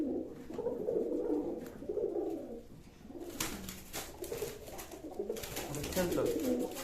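A pigeon coos in repeated low, soft bursts at close range, with a voice talking over parts of it and brief clicks and rustles in between.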